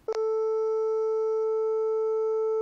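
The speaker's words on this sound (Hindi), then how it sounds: "ये स्वर 440 हर्ट्ज आवृत्ति इतना होता है" A steady pure 440 Hz electronic tone from a sound generator app holds at one pitch after a brief click at the start, clean and unchanging, with no other sounds.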